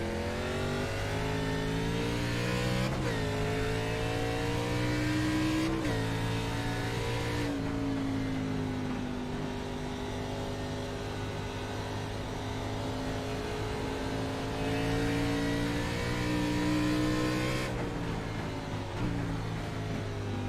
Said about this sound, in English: we'll take a lap around Iowa Road Course from the current race leader, Skylar Carnes.